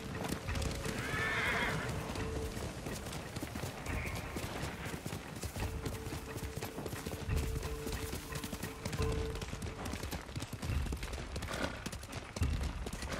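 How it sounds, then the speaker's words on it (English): Horse hooves clip-clopping steadily with a whinny near the start, from the video game Ghost of Tsushima, heard over constant game background noise. "I gotta get on the horse!"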